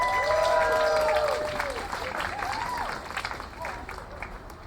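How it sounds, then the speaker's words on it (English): A bar-room audience applauds a storyteller at a bike-themed story night in a coffee house, loud sustained clapping that slowly fades, with whistles and cheers early on and voices mixed in. "So let me get a real good round of applause for the first storyteller of the night, Matt LaDue."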